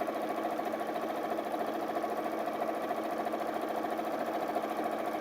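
A sewing machine runs steadily, stitching a bag seam with its pins left in place, a continuous fast mechanical whir with no pauses and no voices.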